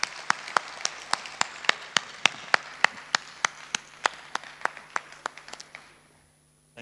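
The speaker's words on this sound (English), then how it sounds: "Can we give him a round of applause" Slow, rhythmic clapping from an audience honoring a government minister, about twenty even claps at a steady beat that thin out and fade into near silence.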